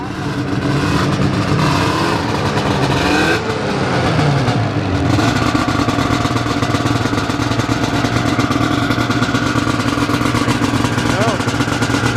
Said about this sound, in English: Right into the rev, Liam.